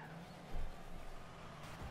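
A car in the Rocket League video game drifts, its tires skidding in a faint, continuous squeal with a slight swell partway through.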